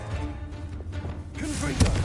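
Bombarda explosion spell in Hogwarts Legacy, a low rumbling game ambience broken by a short swell and then one heavy booming blast near the end, loud and close.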